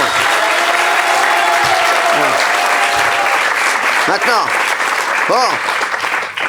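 Sustained, loud audience applause in a French television studio, steady and dense for several seconds, with voices talking and calling out over the clapping throughout.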